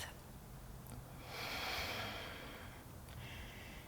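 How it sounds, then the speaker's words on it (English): A long, slow, deep breath is drawn in and let out during a quiet yoga session, faint and airy and swelling in the middle, with a light sniff near the start and another near the end. "Gently begin to deepen your breath"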